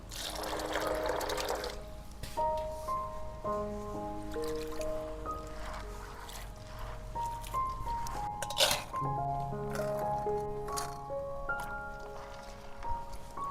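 Soaked chickpeas are rinsed in a pot of water for a chickpea chaat, with steady trickling and sloshing plus light clinks of the vessel throughout, close and continuous.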